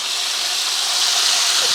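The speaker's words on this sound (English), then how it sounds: "you can hear the ice cream is starting to sizzle and melt out of there" A loud, continuous hissing sizzle of battered ice cream crackling in a deep fryer's hot oil, close and unbroken throughout.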